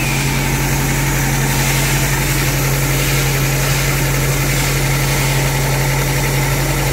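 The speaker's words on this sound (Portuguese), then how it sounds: "Primeira partida do motorzinho do Classic." A Chevrolet Classic's replacement engine idles loudly and steadily close by after its first start, a constant low throbbing hum with rattling vibration and no voices.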